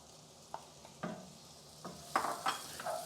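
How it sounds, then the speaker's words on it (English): Chopped onion fries in a lightly oiled pan, a soft background sizzle broken by several distinct scraping stirs and knocks of a utensil against the pan, growing busier toward the end. "Add your chopped onion"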